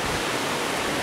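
Water flows steadily into a pond at a trout farm, a close, even rushing hiss that continues without a break and with no voices.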